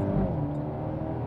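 A 2020 Mercedes-AMG A35 4Matic hatchback engine revving hard under full throttle in comfort mode on a hill climb, a loud steady rising growl heard from inside the car, with no voices.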